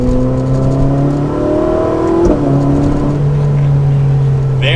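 A Ferrari 458 Spider accelerates with the exhaust valve opening around 2,900 RPM, its steady engine tone climbing and shifting pitch, loud and close, with no one speaking.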